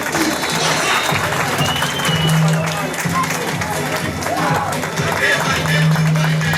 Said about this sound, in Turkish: Bir kocaman alkış gelsin kendilerine.